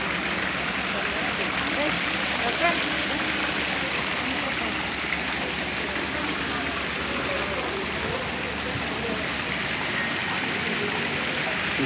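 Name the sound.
water fountain at a water park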